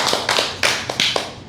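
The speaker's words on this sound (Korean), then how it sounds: "박수. 박수." A few people clap their hands at the end of a Korean poetry recital, about five sharp, spaced claps in a loose rhythm, close and fairly loud with no talk.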